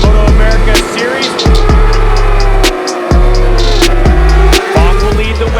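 Supersport motorcycles racing in the MotoAmerica Series in the American Racing 3 game, engines roaring loud and continuous with rising revs cut by repeated gear shifts and brief drops in throttle.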